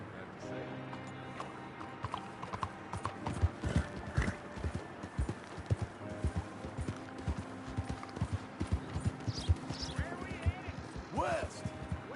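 Rhythmic clip-clop of horse hooves at a steady trot in Red Dead Redemption 2, mid-distance, with a few scattered clanks over a quiet background.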